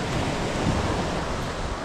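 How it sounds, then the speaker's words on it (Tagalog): Ocean waves break on a sandy shore, a steady loud wash of surf and spray with wind noise, continuous and close, no voices. "Tayo pagka ang laki ng alon, dito na nga yung pangpang niya, taas na ng buhangin."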